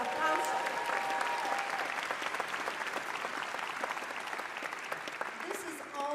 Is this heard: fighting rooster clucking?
no